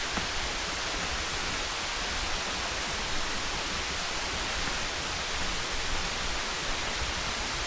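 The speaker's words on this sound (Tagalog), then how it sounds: "Ito pa lang, Hulog Falls." Hulugan Falls pours in a steady, dense roar of falling water, a constant broadband rush that stays even and unbroken throughout without any voices.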